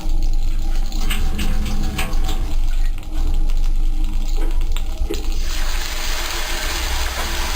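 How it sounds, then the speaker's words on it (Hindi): Water poured into a pot already holding ghee, sugar, cloves and cardamom while making white zarda: a steady, close splashing and trickling stream that changes tone partway through, with no voices. "और इसमें चंद कतरे पानी के डालूंगी।"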